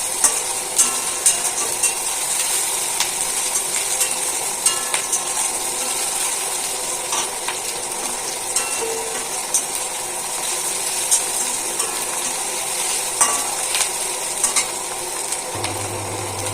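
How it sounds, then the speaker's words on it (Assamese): Onions fry in oil in a pan for a macaroni dish, giving a steady, soft sizzle with occasional stirring clicks that continues without pause throughout. "পিঁয়াজখিনি অলপ মই গল্ডেন ব্ৰাউন হোৱালৈকে অলপ মানে ইয়াত ভাজি ল'ম"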